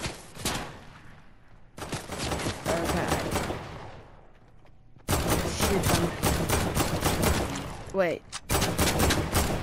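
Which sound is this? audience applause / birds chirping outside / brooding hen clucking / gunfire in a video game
gunfire in a video game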